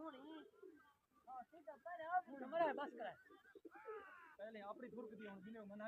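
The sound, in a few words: pigeons cooing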